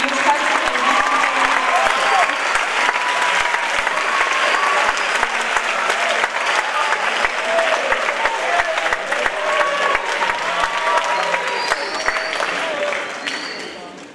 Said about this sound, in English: Please once again give a warm round of applause to the